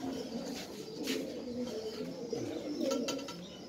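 Pigeons offered for sale coo in low, throaty, overlapping calls, close and fairly steady over a faint background hiss, with a few brief higher chirps scattered through.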